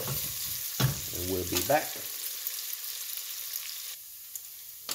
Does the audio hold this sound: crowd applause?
no